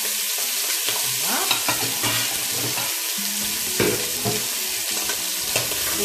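Chicken legs searing in a cast-iron pot give a steady crackling sizzle with irregular pops and spatters, close and continuous, with no voices.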